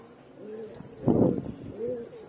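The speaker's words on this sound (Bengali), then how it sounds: "দেখতে পাচ্ছেন আমার লফটের কবুতরগুলোকে।" Giribaz and silver pigeons coo softly in a loft, a few low, rolling calls close by with quiet talk in the background.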